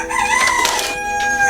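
A cockerel crows nearby, a single loud drawn-out call with a rising then falling tone that fills the short moment.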